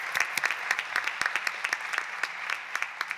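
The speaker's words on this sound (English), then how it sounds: "Let's get a round of applause for our stellar Business Record editorial team" An audience at a business ideas event claps steadily for an editorial team, with dense, evenly paced applause sustained close and loud throughout.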